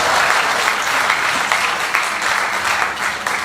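Enthusiastic applause from a large poetry-gathering audience, a steady wash of clapping with no break, loud and close.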